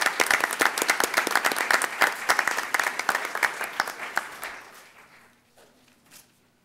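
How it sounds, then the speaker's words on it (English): A school board meeting audience breaks into a burst of applause that holds strong for several seconds, then thins and fades away to near silence. "So let's give them a round of applause."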